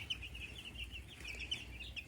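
Lavender Ameraucana chickens cluck and chirp softly on a farm, a scattering of faint, high calls over a low steady background hum, with no talk.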